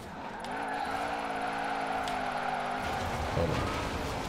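A 2019 Lamborghini Urus drifting in Forza Horizon 4, its tires skidding in a long sustained squeal with a steady engine tone underneath, fairly close and loud throughout.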